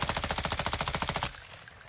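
Automatic gunfire in Call of Duty Modern Warfare II DMZ, a rapid, loud burst of evenly spaced shots lasting just over a second, then cutting off to quiet game ambience.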